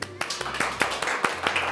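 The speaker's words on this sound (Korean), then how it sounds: "박수 한번 드리죠" Scattered claps from a small audience at a Korean lecture on radio stations and KCA, a handful of sharp, evenly spaced hand claps over a low hum, with a voice nearby.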